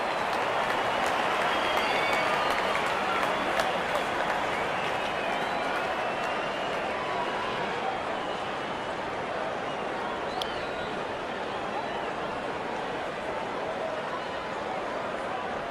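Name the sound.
stadium crowd cheering in a cricket video game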